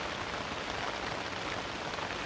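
Steady, even rain pours down outdoors beside blooming marigolds, a close, dense hiss of drops on surfaces that never lets up, with no voices.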